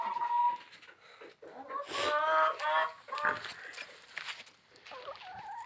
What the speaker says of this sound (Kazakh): Тауықтарым міне осы жерлерде.